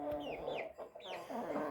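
Hens clucking in a poultry yard, a run of close, repeated bright clucks and calls that keeps going through the short stretch with no talk over it.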